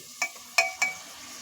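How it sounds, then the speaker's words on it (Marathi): Tomatoes going into a pan of sautéed onions for Kolhapuri tambda rassa (chicken curry), giving three quick clinking, stirring hits over a faint steady sizzle, close and fairly quiet. "आणि आता मंडळी आपण त्याच्यामध्ये टोमॅटो टाकणार आहोत"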